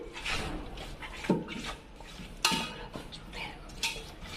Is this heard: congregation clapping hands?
no